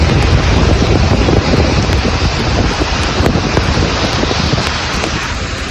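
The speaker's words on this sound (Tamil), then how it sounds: "டெல்லியில் சூறைக்காற்றுடன் லேசான மழை பெய்தது" Strong gusty wind buffets the microphone with a dense, continuous roar, light rain hissing underneath as Delhi weather rages steadily and loudly throughout.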